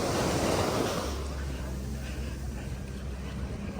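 Ocean surf washes onto a beach on Koh Samed Island, Thailand, a loud continuous rush with wind buffeting the microphone, strongest at the start and then easing slightly.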